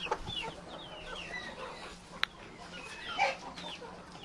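Turkeys and chickens in an autumn village yard in Ukraine give soft scattered clucks and calls at moderate distance, with one brief sharp click and a louder bird call near the end.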